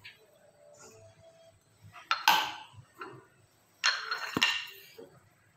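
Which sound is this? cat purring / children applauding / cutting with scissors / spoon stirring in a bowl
spoon stirring in a bowl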